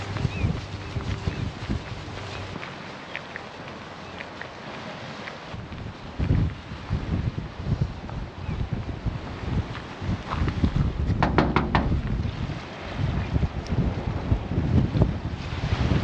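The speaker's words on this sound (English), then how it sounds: "You know what we'll find there? What? Wind." Strong wind buffets the microphone on a walking loop through Inverness near the Ness Islands, a steady rushing roar with gusty swells throughout and a louder surge near the end, with no clear talk.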